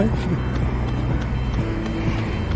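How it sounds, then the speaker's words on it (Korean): Road traffic heard while up on a road during a morning run, a steady rumble of passing cars under a person talking, with a faint intermittent beep. "위로 올라오니까 자동차 소리가"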